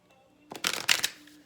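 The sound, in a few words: shuffling a deck of cards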